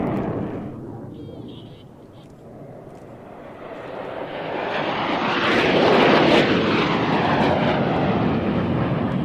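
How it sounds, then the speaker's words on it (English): Aircraft in an aerobatic display roaring past, the jet noise swelling from a faint hiss to a loud broad rush around the middle and holding strong, with a brief faint tone near the start. "You can switch the radio comms off and just hear the aircraft sounds."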